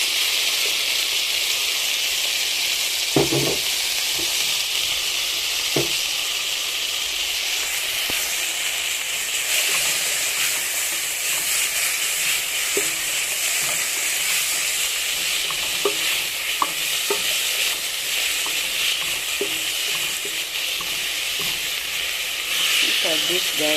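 Tomatoes, with carrots about to be added, sizzle steadily in a pot for a Kenyan dish, a continuous bright frying hiss punctuated by occasional clicks and stirring knocks.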